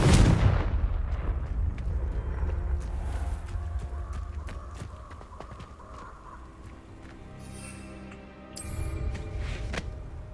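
In the video game Hogwarts Legacy, a Confringo fire blast spell bursts loudly at the start with a heavy boom, followed by a rumbling, crackling tail and a later sharper magical burst.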